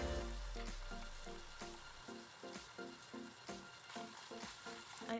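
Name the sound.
chopped onions and garlic frying in a pan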